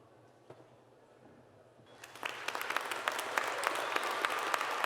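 Audience applause at a university honors convocation swells in about two seconds in, then continues as dense, sustained clapping from a large crowd filling the hall, steady and fairly loud to the end.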